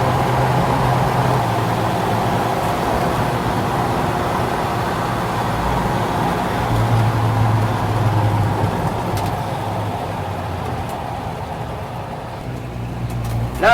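A 1950 Chevrolet five-window pickup with a 216 engine drives down the road, its steady low engine drone and road noise continuing throughout with no voices.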